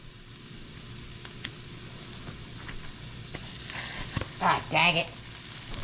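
Onion and garlic fry in a pan for a bacon, potato, egg and cheese casserole, giving a steady, even sizzle throughout; a brief spoken exclamation rises over it near the end.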